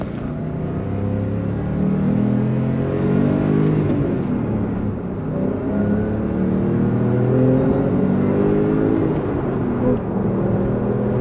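A Porsche 911 GTS engine accelerating heard from inside the car, a loud continuous growl that climbs in pitch through the gears, with brief dips between shifts.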